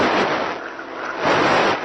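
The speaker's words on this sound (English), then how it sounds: "We've got an airplane going by." An airplane passing overhead while a herd of elephants stands nearby outdoors, heard as a loud, broad, steady roar that swells and eases for about two seconds.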